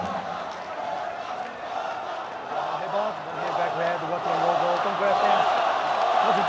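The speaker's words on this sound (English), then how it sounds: "The chants go up for Kultur from this sellout crowd inside the mighty Thuwunna Indoor Stadium." A sellout crowd inside the Thuwunna Indoor Stadium chants for a fighter at a ONE Championship event, a dense, echoing roar that swells toward the end, with a commentator talking over it.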